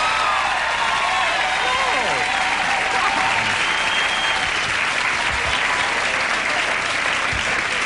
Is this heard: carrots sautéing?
no